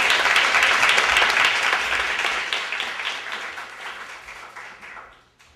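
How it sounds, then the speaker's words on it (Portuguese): Audience applause at an international symposium on body, theatre and philosophy, a dense wash of many hands clapping together, loud at first and steadily thinning and fading to silence over several seconds, with no talk over it. "Uma salva de palmas, por favor."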